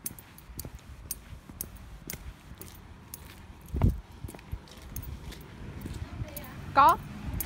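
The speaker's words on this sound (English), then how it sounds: "Oh, I should get my keys" A bunch of keys jangles briefly up close as they are picked up, a short metallic rattle that stands out over faint background noise.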